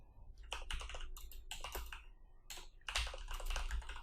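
Rapid bursts of typing on a computer keyboard, close and crisp, with clustered key clicks separated by brief pauses and no talking.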